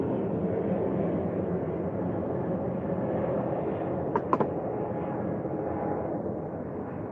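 Loud airplane noise fills the whole stretch, a steady broad engine roar droning overhead, with a couple of faint clicks midway.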